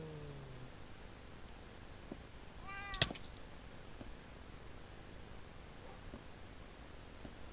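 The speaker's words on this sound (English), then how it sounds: "Oh, I hear kitty cats." Minecraft cats on a server's pet farm let out a short, distant meow, followed by a sharper, louder cry midway, over a faint hiss of background static with no talking.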